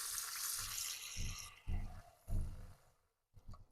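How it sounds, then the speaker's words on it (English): Water running from a kitchen sink tap onto raw beef, a steady close rush of flow that cuts off, followed by a few short splashy bursts and a brief quiet gap. "The next thing I will do is run some water on it and then put it on the stove."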